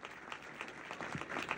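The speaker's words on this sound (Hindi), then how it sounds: "आपके इस काम के लिए एक बार जोरदार तालियां" A village gathering in Sarsaud gives a burst of loud applause, dense crowd clapping filling the short moment with little talk.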